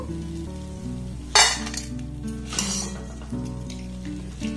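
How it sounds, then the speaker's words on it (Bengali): Besan fritters frying in hot oil, a loud crackling sizzle that swells sharply when a batch hits the oil, with low kitchen hum and light utensil clinks nearby. "এগুলোকে প্রথমে একটু লাল লাল করে ভেজে নেব।"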